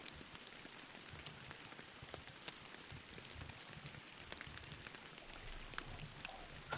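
Steady video game rain patters evenly on surfaces, a soft, continuous hiss with scattered drop ticks, faint and unbroken with no voices.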